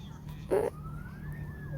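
A police car siren in the GTA video game wails faintly for under two seconds, with a single rising then level tone under low background hum.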